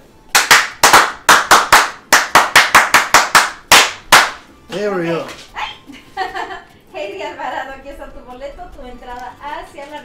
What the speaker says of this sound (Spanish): ok, un aplauso entonces